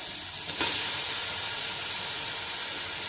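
Tomatoes dropped into hot spiced oil for a vegetable pulao give a loud, steady broadband sizzling hiss that flares up just after the start and holds evenly to the end.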